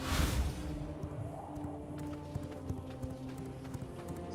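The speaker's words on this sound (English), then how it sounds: "Let's hop on this horse." Horse hooves clip-clop in the V Rising video game as a rider mounts and sets off, a steady trotting rhythm of moderate loudness beneath game ambience, with a louder burst at the start.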